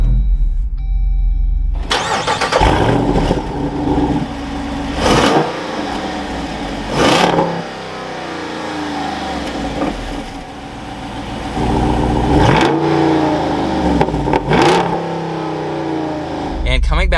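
A 2021 Jeep Wrangler 392 Rubicon fires up with a loud starter crank. The engine catches into a rumbling idle and is then revved several times in sharp surges close to the microphone.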